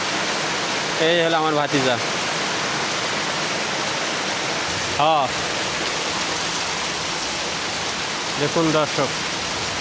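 Torrential monsoon downpour roars as a thick, unbroken wash of falling water, loud and close, while a few short bursts of voices talk over it.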